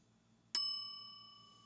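A single bright bell ding, struck once and ringing out cleanly with a long, slowly fading metallic tone over near silence.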